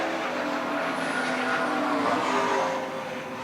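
Green Aston Martin Vigilante saloon race car lapping Ruapuna in an OSCA Super Saloons race, its engine note sustained and rising slightly as it passes, fading a little at the end.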